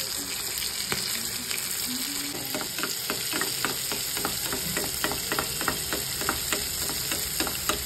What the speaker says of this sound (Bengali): আজকে এটাকে ভাজা হচ্ছে